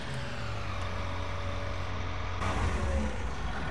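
A John Deere 6230 tractor engine rumbles steadily up close while being parked, a continuous low drone that swells slightly toward the end.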